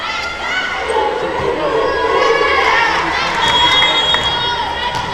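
Crowd noise fills a college volleyball match between Elmhurst and Illinois Wesleyan, a steady, dense roar of voices and cheering from a large crowd, continuous throughout with a commentator speaking over it.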